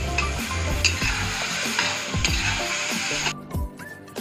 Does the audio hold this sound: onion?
yes